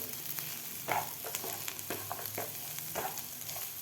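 Cashews and onions fry in a pan for a spicy fresh-pea matar bhaji, a continuous close sizzle with irregular soft stirring scrapes and taps throughout, no talking.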